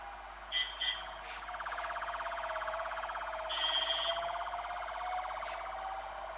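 A faint electronic siren wails steadily in the distance, with a few short beeps at the start and again midway.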